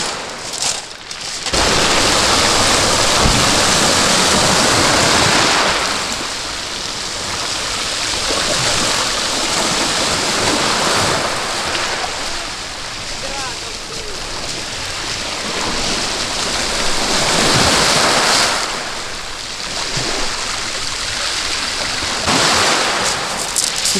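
Sea waves wash onto a rocky shore at Simeiz in Crimea, a loud, continuous roar of surf that swells and eases steadily throughout.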